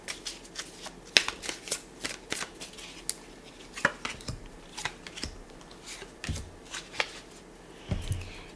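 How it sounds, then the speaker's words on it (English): Tarot cards being shuffled up close during a pick-a-card reading: a steady run of crisp riffling snaps and papery clicks, some sharper than others, with no talking. "I will now draw some tarot cards to see what else wants to come through for you."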